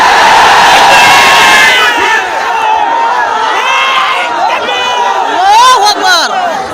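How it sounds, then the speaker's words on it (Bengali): A large crowd at an outdoor political rally chants slogans in loud unison, rising and falling in waves with scattered shouts, close and dense, with no separate speaker talking over it. "স্লোগান দিবেন না"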